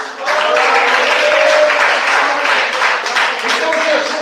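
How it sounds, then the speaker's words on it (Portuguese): A church congregation claps together during a worship service, a sustained, dense wash of applause filling the room at close range with no pause. "Me bate palmas."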